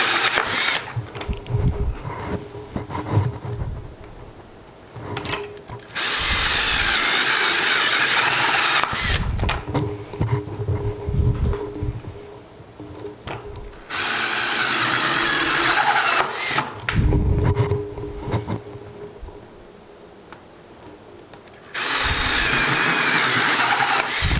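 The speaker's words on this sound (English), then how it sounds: "You've got to hold your bucket really steady and watch for the circle to appear evenly as it starts to go in, make adjustments." A power drill fitted with a hole saw cuts through stacked plastic buckets in several sustained bursts of loud whining and grinding, separated by quieter scraping and handling noises between cuts.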